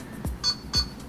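A LEGO NXT Mindstorms robot driven from an Android phone emits two short electronic beeps, close and fairly quiet, each preceded by a soft low thump.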